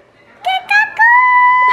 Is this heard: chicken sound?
yes